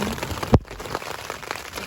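Rain patters steadily during an outdoor weekend picnic with Korean barbecue at Sawmill Trailhead, a dense, even hiss broken by one sharp close knock near the middle.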